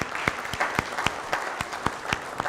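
A conference audience applauds at a closing session, a dense patter of clapping hands filling the room with sharp individual claps popping out of the steady wash.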